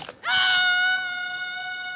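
A young dinosaur in The Good Dinosaur shouts from atop a rock, a loud, sustained wailing cry that rises sharply and then holds steady, ringing out alone.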